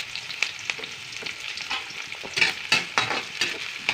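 Onion and garlic sautéing in cooking oil give an irregular crackle of close sizzling pops over a low steady hiss, with no talking.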